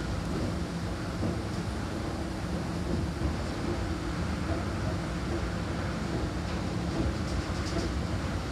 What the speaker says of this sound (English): Once again, these are Fujitec GS8000-NX escalators.